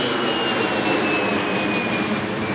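A jet airliner landing at Washington Reagan National Airport roars as a loud, steady engine rush with a faint whine sliding slowly downward, heard close and alone.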